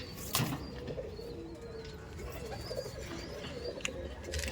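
Pigeons in a home loft coo softly in the background, low murmuring calls under steady ambient noise, with a brief flutter or knock near the start.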